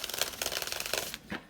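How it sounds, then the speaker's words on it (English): Tarot cards are shuffled close up in a quick, rhythmic riffle of crisp flicks and papery slaps, ending in a softer pause and a final tap. "We're going to do one more shuffle."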